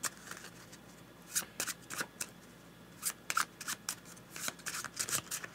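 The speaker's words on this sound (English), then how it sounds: "let's shuffle these" A deck of board game cards is riffled and shuffled by hand in repeated quick bursts of crisp flicking and papery rattling, close and fairly quiet, with no talk.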